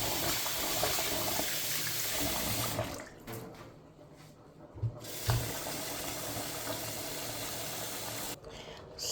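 Bitter leaves for ndole being washed under running tap water in a sink, a steady broadband rush of flowing water with brief pauses and small splashes partway through.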